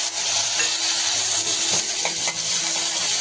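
Curry leaves and coriander sizzling in hot oil for a Puneri misal, a steady bright frying hiss with a few crackling pops and faint stirring, close and continuous with no talk.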